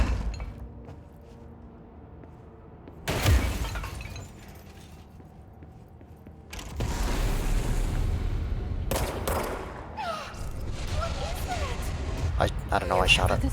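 Gunfire bursts from the video game Control, several heavy volleys with shattering debris breaking out after quiet stretches, loud and close with dense crackling tails.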